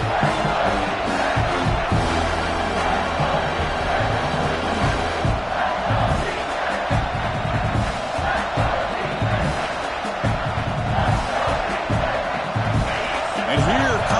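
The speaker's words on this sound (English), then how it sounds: "This crowd is trying to inspire this defense to make a big red zone stop." Stadium crowd in the College Football 26 video game roars continuously as the defense faces a red zone stand, a dense, loud wall of cheering and shouting with a commentator's voice running over it.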